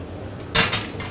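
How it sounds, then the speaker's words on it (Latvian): A metal spatula strikes and scrapes a frying pan while almonds are toasted in it, giving a sharp clang followed by two softer scraping knocks, close and clear. "uz šīs te pannas apcepam mandeles un noskrāpējam to pannu dibeni"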